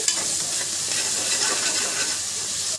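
Freshly ground ginger-garlic paste sizzles steadily in hot oil for a sanagapappu (chana dal) mutton curry, a continuous close hiss and crackle with faint stirring clicks and no voices.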